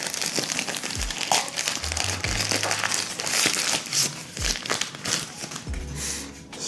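The packaging of a UGreen CM630 HD video capture card is opened close up, with loud crinkling and crumpling of plastic and paper and a few low thumps as the box is handled.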